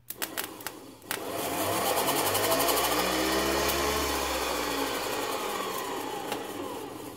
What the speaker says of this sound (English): motor spins up really nicely